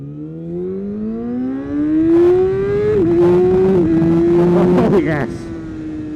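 A 2017 Yamaha R6 supersport motorcycle revs hard on a track, its engine note climbing steadily and then dipping sharply at each upshift. The sound is loud and close, ending as the revs settle.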